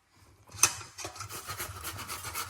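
Frozen whole ginger is grated directly on a kitchen grater, heard as a quiet, close scraping rasp in repeated strokes after a short click, with no talk over it.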